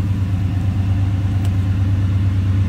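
A 1971 Chevrolet Chevelle two-door hardtop with a fuel-injected engine idles with a steady, even mid-low rumble, close and continuous with no revving.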